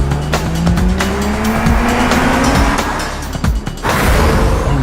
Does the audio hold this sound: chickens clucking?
no